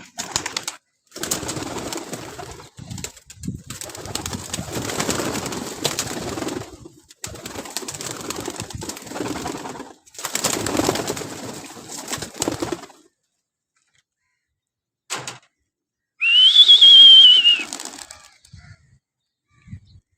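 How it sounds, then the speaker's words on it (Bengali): Bursts of female pigeons' wings flapping close by as they are released, separated by pauses, with soft bird calls and a brief high whistle near the end. "এই যে মাদি কবুতর গুলো এখন ছেড়ে দিব"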